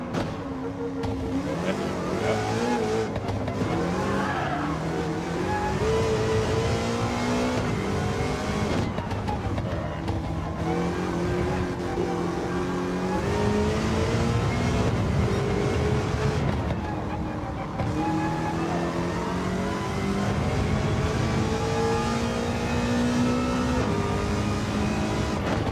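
Race car engine in Gran Turismo 7 on PS5 Pro, a continuous high whine that climbs and drops through gear changes, steady and close throughout.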